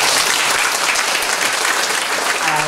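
An audience at a political assembly breaks into dense, continuous applause, loud and close, holding steady with only a faint voice underneath.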